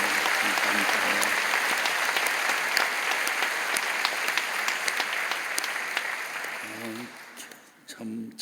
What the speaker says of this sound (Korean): 우리 뜨겁게 한번 박수 좀 한번 하세요